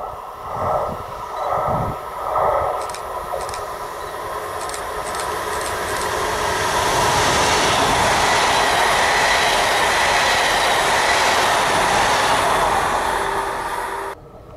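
A train runs past on the opposite track on the Augsburg–Donauwörth line in southern Germany, a loud, close, sustained rumble of wheels and wagons with rail clatter that builds and holds before cutting off.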